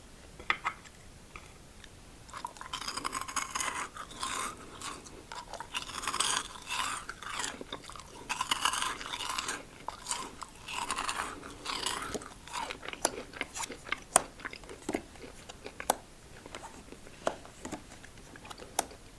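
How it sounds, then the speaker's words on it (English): Crunchy cheesy Cheetos balls being bitten and chewed up close, with a steady run of crisp crunches and mouth sounds over about twenty seconds, quiet in the background. "It's such a weird texture to crunch."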